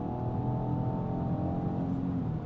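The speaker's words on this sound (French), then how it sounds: "Le moteur gueule un peu." A 2023 Peugeot 208 GT with a 100-horsepower engine hums steadily from inside the cabin as it accelerates, a close, even engine drone with a slowly rising pitch.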